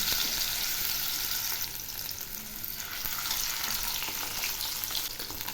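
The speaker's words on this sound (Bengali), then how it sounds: "এখন আমি মাছগুলো দিয়ে দিচ্ছি।" Pieces of rohu fish fry in hot mustard oil in a pan, giving a steady, loud crackling sizzle with brief spattering bursts, continuous and close with no speech.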